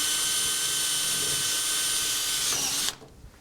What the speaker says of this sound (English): We'll push down the lock tab and we'll drill a reinforcement screw.